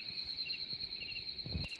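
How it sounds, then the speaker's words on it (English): Crickets chirping as a built-in sound effect, a steady high electronic trill that runs unbroken throughout, fairly quiet, with a brief low thump near the end. "it's evening time and the crickets are chirping"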